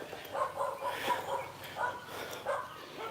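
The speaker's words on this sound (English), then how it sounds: "Shit, I know there's dogs up here." Dogs in Wieng Sa, Thailand, barking and yipping at a distance, several scattered barks over about three seconds with faint outdoor background noise.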